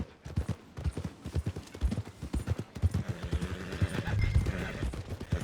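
Horse hooves clip-clop in a steady walking rhythm, close and distinct, with a light rustle of tack and a faint snort near the end. The scene is a ride toward the stables in the video game Red Dead Redemption 2.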